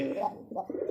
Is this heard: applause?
no